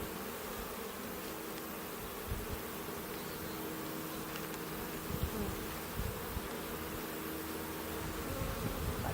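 Honeybees buzz around an open hive being inspected, a dense, steady hum close by with occasional louder passes from individual bees.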